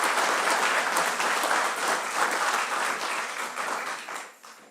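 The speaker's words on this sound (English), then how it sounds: "Another round of applause for all of you being here." An audience at a Martin Luther King Jr. remembrance gives a warm round of applause, dense and steady before tapering off at the end.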